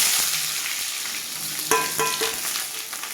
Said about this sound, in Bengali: এই যে পেঁয়াজটা ভাজা ভাজা হচ্ছে